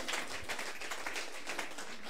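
Congregation in a church service clapping for the Lord, a faint, fairly steady stream of many overlapping hand claps at a distance, with no voices standing out.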